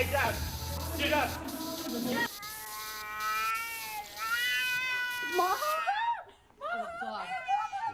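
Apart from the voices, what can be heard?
cat meowing and caterwauling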